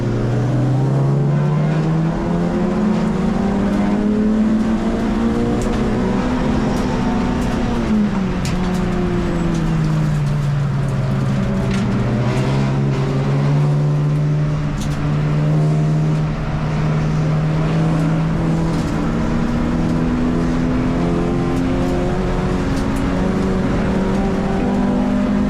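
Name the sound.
race cars racing at Mallory Park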